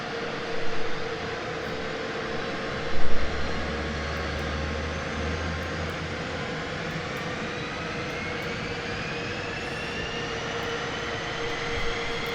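An F-15E's number 2 right engine spooling up during start, a steady rising whine with turbine tones climbing in pitch over a broad roar, with a couple of brief low thumps early on.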